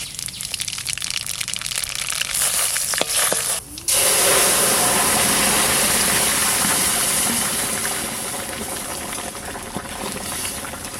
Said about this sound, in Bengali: ফোড়ন দেবো সর্ষের তেল দিচ্ছি কড়াইতে